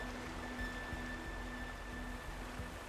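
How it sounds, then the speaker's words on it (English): A waterfall in the video game Horizon Forbidden West rushes as a steady, even wash of falling water, moderately loud and constant, with a faint tonal hum beneath and no talk. "Waterfall."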